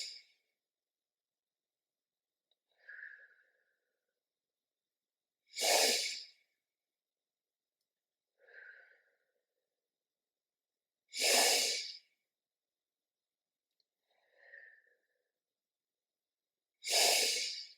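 Slow, deliberate breathing during a calm children's mindfulness exercise: three cycles of a soft inhale followed by a long, loud, airy exhale, each separated by silence.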